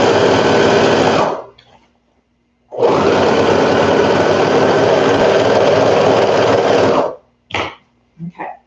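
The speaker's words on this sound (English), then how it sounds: "And then you can just sew it and then pull the pins later." Domestic sewing machine stitching seams of a toddler peasant dress, running loud and steady in two long bursts separated by a short pause, followed by a few brief handling clicks.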